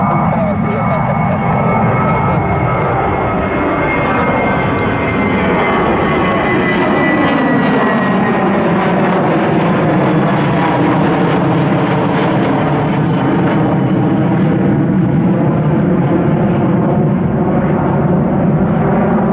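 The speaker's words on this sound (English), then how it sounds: "Airbus A320" An Airbus A320 airliner passes in flight near Cleveland Hopkins Airport in snowy weather, its loud steady engine roar swelling and shifting in pitch over about twenty seconds with no break.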